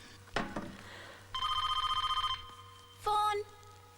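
A telephone rings in a film scene, sounding in two distinct bursts: a long, rapidly trilling electronic ring of about a second, then a shorter, louder ring after a brief pause. A sharp knock-like hit comes first, and no one speaks.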